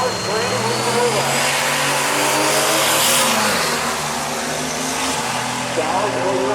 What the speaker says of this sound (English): the car is running on 7 cylinders